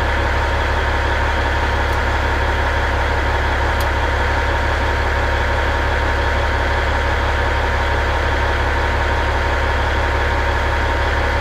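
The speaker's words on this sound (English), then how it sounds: "Also the air compressor's still pumping 140 PSI now, so the governor's not working." Steady idling engine drone of a 1983 Kenworth cabover truck with its air compressor still pumping at 140 PSI because of a faulty governor, a constant loud low hum with faint ticking, no talking.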